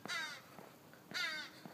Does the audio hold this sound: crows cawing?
yes